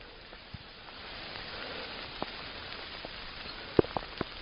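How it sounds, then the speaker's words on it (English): Steady to heavy rain falls in woodland, a soft continuous hiss with scattered louder drips and taps, quiet and close with no voices. "The rain is falling somewhere between steady and quite heavy."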